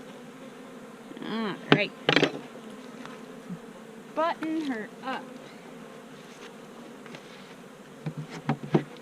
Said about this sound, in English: And these bees are being very calm.